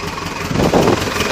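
A rebuilt Nuffield 805 tractor engine runs steadily close by, giving a rough, continuous diesel chug with slight swells in loudness.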